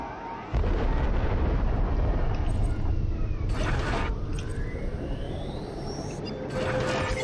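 Torpedo explosions in the underwater video game Diluvion Resubmerged: a heavy, sustained blast rumble bursts in and roars on, with swooshing tones sweeping through and a second burst near the end.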